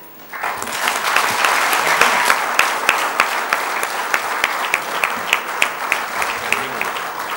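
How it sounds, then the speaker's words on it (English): An audience at a business session bursts into applause, a broad sustained clapping from many people with a few sharp individual claps standing out as it continues. "I would expect a much louder applause for it."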